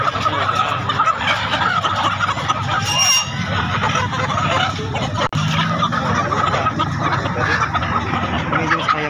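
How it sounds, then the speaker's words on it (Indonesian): Free-range village chickens (ayam kampung) at a market in Makassar cluck and squawk continuously in a dense, noisy crowd of fowl, loud and close, with people talking in the background. "Ini jenis ayam kampung teman-teman"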